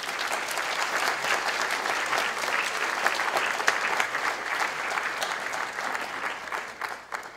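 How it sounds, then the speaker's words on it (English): An audience at a book awards finalists reading breaks into sustained applause, dense steady clapping from a crowd that fades slightly toward the end. "I wonder if we could join in a round of applause for all those involved"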